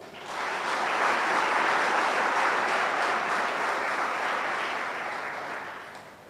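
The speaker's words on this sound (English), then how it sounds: "give yourselves a round of applause for having achieved what you have so far" An audience at a Jamaica National Service Corps certification ceremony applauds, a dense sustained wash of clapping that swells quickly, holds steady for several seconds, then tapers slightly, with no talking over it.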